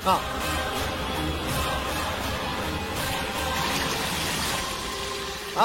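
A tap runs with a steady rushing stream of water after a motor has been switched on, heard in a Tamil TV drama scene. The flow is constant and fairly close, and voices talk over it throughout.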